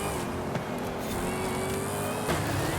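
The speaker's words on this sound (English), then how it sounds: "I'm really just drifting at this point." A Dodge Hellcat Redeye drifting in Forza Horizon 5, its engine holding a steady loud drone with tire scrub and a slight shift in pitch near the end.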